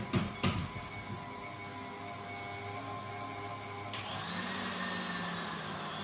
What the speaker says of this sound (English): Turn the mixer up